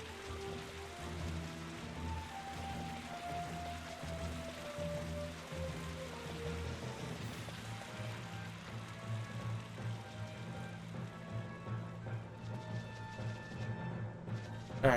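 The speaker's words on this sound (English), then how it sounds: "this is not cloudy, this is rain." Steady rainfall in a video game, a continuous soft patter under tonal music, moderately quiet and unbroken throughout.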